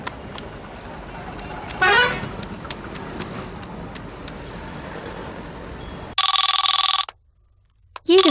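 Mobile phone ringing with a sudden loud electronic ringtone burst lasting about a second, breaking off into silence, then returning briefly, after quieter outdoor background noise and a short honk-like tone.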